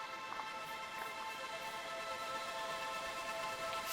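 A dense, distorted synth sustains at a steady level for a big room techno track, thickened by saturator automation toward the end into a bright, gritty wall of sound with no talking.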